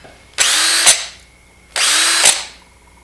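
A Porter Cable PCC607 half-inch brushless drill driver runs in two short whining bursts, each about half a second, loud and close with a brief pause between them.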